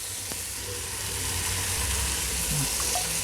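Rice poured into a pan of sizzling tomato gravy, with a steady frying hiss throughout, a few soft scrapes and stirring clatters, close and fairly loud with no talking.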